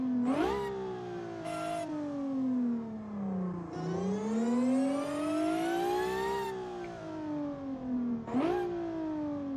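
A supercharged 800-horsepower JXV car engine revs hard through repeated climbs and drops in pitch, with sharp blips between long rising pulls, loud and close throughout.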